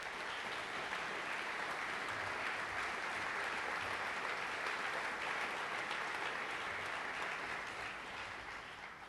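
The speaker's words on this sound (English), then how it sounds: "Can our chaplains please stand up and give them a huge round of applause" An audience at an NYPD High Holy Days briefing applauds the chaplains, a loud, dense, steady wash of clapping that fades slightly at the end.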